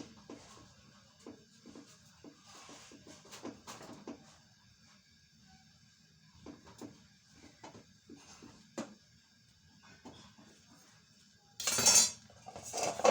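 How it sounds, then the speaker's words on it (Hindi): Dishes and utensils clink and knock as they are set down to soak in a home kitchen, a string of sparse, light metallic chinks and taps at close range, with a louder clatter near the end. "तो मैं बर्तन को ना भिगो के रख दूँ, जब तक कि भीग गया होगा फिर आराम से मैं धो लूँ।"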